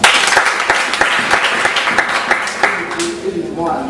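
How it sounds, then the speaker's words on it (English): Audience members at a discussion on whether children should be punished clap for themselves, loud distinct claps that fade into scattered ones before a voice begins to speak. "May you please clap for yourselves."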